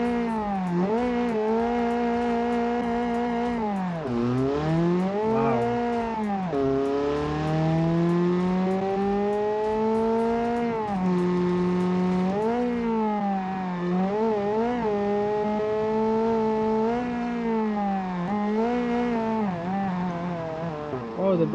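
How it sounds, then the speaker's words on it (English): A loud, droning modified car engine in a video game revs up and down continuously for a long stretch, its pitch rising and dipping with gear changes, close and unbroken. "And the engine is really loud."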